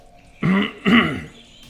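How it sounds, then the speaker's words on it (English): A person clears their throat twice in quick succession, close to the microphone, with two short raspy bursts and a brief gap between them, followed by a faint trailing breath. "Sorry, clearing my throat."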